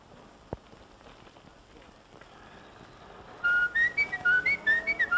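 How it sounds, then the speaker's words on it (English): A person whistles a few quick notes of reveille, a short bright rising melody that comes in after a quiet stretch with a single sharp knock near the start. "just blow a few notes of reveille, and she'll honk a horn."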